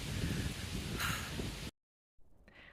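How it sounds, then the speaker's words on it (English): Strong wind gusts outdoors in Wyoming, buffeting the microphone loudly and steadily with rustling noise, then cutting to near silence before resuming more quietly. "This wind is gnarly."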